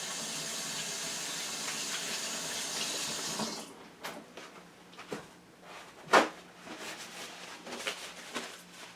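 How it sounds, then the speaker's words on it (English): Tap water pours steadily into a sink for a few seconds while hands are washed, then the faucet shuts off, leaving a few drips and small clatters nearby. "I'm going to wash my hands"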